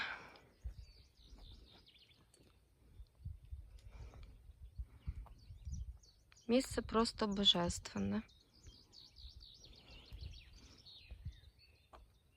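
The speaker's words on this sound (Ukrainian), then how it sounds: "Співають птахи" Birds singing outdoors on a peaceful walk among evergreens, firs, thujas and pines, with a cluster of bright chirps for a couple of seconds amid footsteps and a person speaking quietly.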